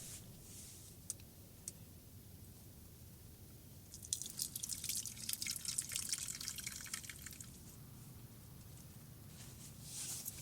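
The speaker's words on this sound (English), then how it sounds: "the crushed jojoba can be strained to separate the liquid" Crushed jojoba liquid drips and trickles as it is strained outdoors. Faint isolated drips are followed by a denser spattering patter in the middle, all quiet and close against a low background hiss.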